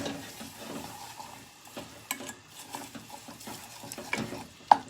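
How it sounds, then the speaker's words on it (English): Stirring a cornflake tart mixture of syrup, melting margarine and cornflakes in a pan, with soft scraping and crunchy rustling strokes over a quiet sizzle, close and fairly faint, ending with a sharper clack. "let me go in and give that a stir"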